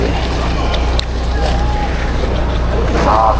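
Strong wind buffets a microphone aboard a fishing boat at sea during octopus fishing, a continuous low roar and rumble throughout, with a voice speaking briefly over it.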